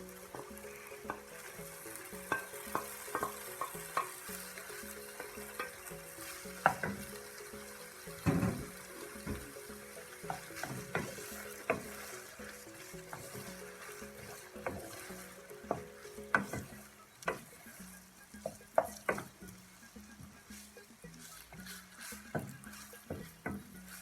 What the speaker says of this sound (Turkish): Soğanlarım güzelce kavruldu. Şimdi işkembelerimi ilave ediyorum.